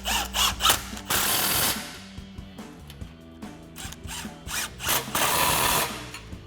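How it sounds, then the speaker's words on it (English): A 15mm socket on a ratchet tightens the exhaust clamps of a 2024-2025 Mustang GT's Pypes X-Bomb cat-back exhaust. Clicks and short mechanical bursts come close and uneven, with brief pauses between them and no talking. "go back with your 15mm socket, tighten down your clamps"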